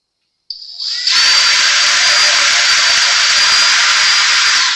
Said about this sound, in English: Let's drill into a brand new guitar again.